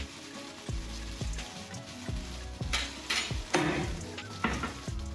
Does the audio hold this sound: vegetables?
yes